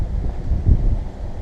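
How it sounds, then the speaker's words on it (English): Gusty wind blowing outdoors as a hurricane approaches Florida's Gulf coast, a low, steady rumble buffeting the microphone with a slightly stronger surge midway. "It's been windy like this all day"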